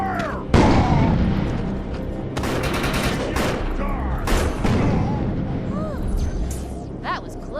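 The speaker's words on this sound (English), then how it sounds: "Covering fire!" Sustained gunfire and explosions in a sci-fi shooter video game battle against mutated enemies, with a loud opening blast followed by dense rapid shots and booms throughout, and voices talking over the chaos.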